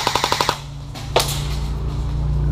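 An airsoft gun fires a rapid burst of about seven sharp, close shots during an airsoft game, followed by a single distant pop and a low background hum.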